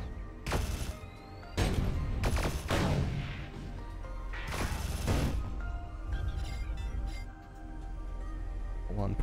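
Missile launches in the sci-fi shooter Sublevel Zero burst out in a series of loud, sharp whooshing blasts with heavy low rumble, several bursts in quick succession over a dense backdrop of game music and effects.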